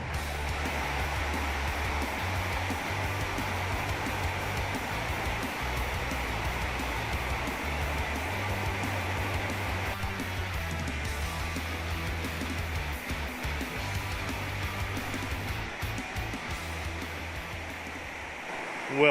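A river rushes along a rocky bank, a steady, dense broadband roar of flowing water that stays loud and unbroken throughout, with no voices.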